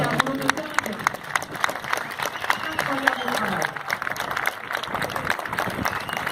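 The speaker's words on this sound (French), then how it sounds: "Ah oui, vous pouvez les applaudir. Il faut les applaudir." Audience at an end-of-day show at the Cité de l'espace in Toulouse applauding the event team, dense steady clapping from a crowd with voices and cheers mixed in throughout.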